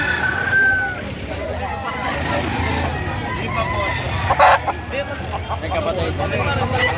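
Roosters at a poultry market in Padre Garcia, Batangas, giving short clucks and calls amid steady crowd hubbub and close conversation.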